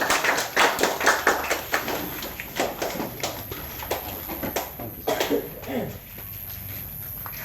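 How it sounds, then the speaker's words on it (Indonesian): Applause from an audience at an evening thanksgiving gathering for the Perseftim football team and Flores Timur diaspora in Kupang: a patter of clapping, moderately loud and close, with sharper individual claps that thin out and fade after several seconds. "Mari kita berikan aplaus kepada Askap"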